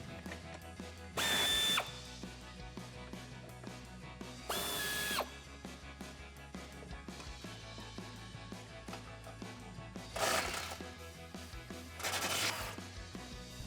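Power tool spinning a 16mm socket to loosen frame bolts on a Jeep Wrangler JL rear bumper, four separate loud bursts of whirring, each about half a second to a second long, with quieter pauses between them.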